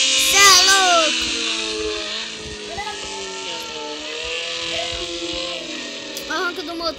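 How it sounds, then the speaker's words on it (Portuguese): A motorcycle engine revs in rising and falling, buzzy surges, heard close up with voices talking over it. "Olha o ronco do motor, família."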